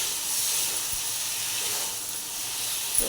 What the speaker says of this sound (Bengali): এখন এখানে জল ঢেলে দেবো।